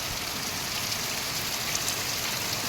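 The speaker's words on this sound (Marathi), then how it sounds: "आज खरा पाऊस जाणवायला लागला पडतोय" Heavy rain pours down steadily in a dense, even hiss across the whole stretch, close and loud, with no voices.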